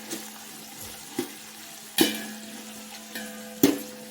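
Onions for vegetable biryani fry in a pot with a low, steady sizzle, while a ladle strikes the metal rim several times at irregular intervals. The close knocks ring briefly over a quiet background.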